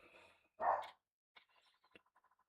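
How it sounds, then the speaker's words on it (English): A dog lets out one short, fairly close bark, followed by faint scattered ticking and clicking in an otherwise quiet room. "Dog is barking."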